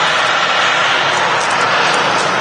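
An easyJet Airbus A320 jet departs with a loud, steady engine roar that fills the short stretch without pause, and no one speaks.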